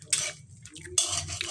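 A wok being wiped with oil while making chhit pitha, heard as close metallic scraping and rubbing strokes in two bursts separated by a brief quieter pause, with no voices.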